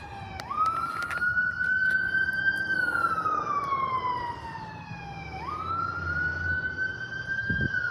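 An ambulance siren wails loudly nearby, rising and falling in two long sweeping cycles over a low rumble of traffic, heard from a cemetery in Fort Smith, Arkansas.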